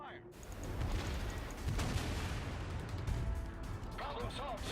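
Heavy naval gunfire in the World of Warships game, with deep booming blasts rolling into a continuous rumble of shots and impacts, loud and close, with a voice briefly audible near the end.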